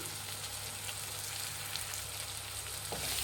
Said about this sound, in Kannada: ಈರುಳ್ಳಿ ಚೆನ್ನಾಗಿ ಫ್ರೈ ಆಗಿದೆ